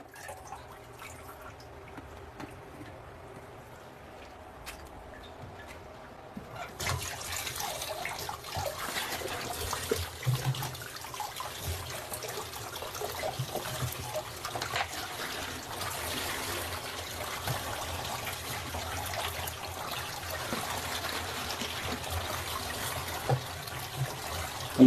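Running water pours and trickles steadily as plastic bottles are rinsed one by one, a soft splashing stream that grows fuller after the first few seconds and continues without speech.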